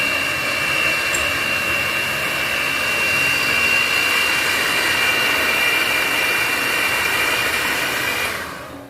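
An electric mixer beats eggs in a bowl for cupcake batter, a loud, steady high-pitched whir that runs unbroken for about eight seconds before cutting off.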